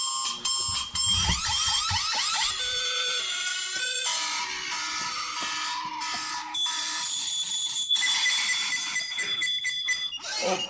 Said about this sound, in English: it just pisses me off when I hear this fuck ass alarm